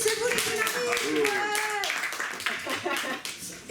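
A festival audience at a comic-book forum in Perros-Guirec applauds, with steady clapping running under a man's French speech and fading near the end.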